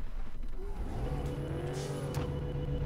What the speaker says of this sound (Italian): adesso spegni il motore no la sto lasciando accesa